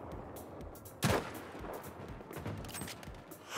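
Gunfire in Battlefield V during a multiplayer match, a scatter of sharp shots around a loud crack near the one-second mark, with more rapid pops continuing at mid distance.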